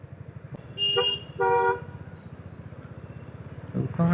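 Car horns honk in Mumbai traffic, heard from a scooter commute: two loud bursts of tooting, one long and one shorter, over the steady buzz of an idling engine, with another brief honk near the end.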